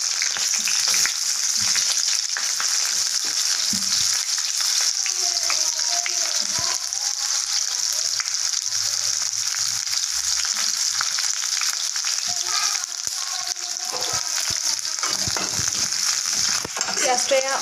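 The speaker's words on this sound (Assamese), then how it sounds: "তেল গৰম হৈ গ'ল এতিয়া দিম গোটা জিৰা জলকীয়া আৰু তেজপাত ফাৰ্ষ্টতে" Whole cumin, dried chillies and bay leaves sizzle steadily in hot oil, a dense continuous frying hiss with occasional stirring clicks, close and loud throughout with no talking.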